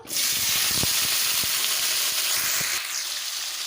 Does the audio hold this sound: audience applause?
no